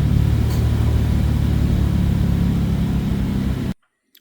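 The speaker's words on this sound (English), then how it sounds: "Okay, so you'll start your vehicle. Let it run for about 5-10 seconds." A car engine runs at a steady idle after an oil change, a loud close rumble that holds evenly for nearly four seconds before cutting off abruptly.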